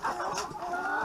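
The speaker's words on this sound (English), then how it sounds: "With a farm with over 50 roosters." Roosters on a farm with over 50 roosters and about 50 hens, one crowing close and clear in a drawn-out call while clucking fowl chatter around it.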